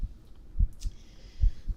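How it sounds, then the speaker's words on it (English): ASMR heartbeat sounds: soft, deep thumps in paired beats, close and muffled, with a faint high hiss above. "Let's go ahead and bring those heartbeats down."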